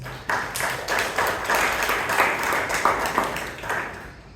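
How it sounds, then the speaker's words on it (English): A room of Toastmasters club members breaks into a round of applause, dense overlapping claps sustained steadily for several seconds at moderate distance. "Let us give a big round of applause"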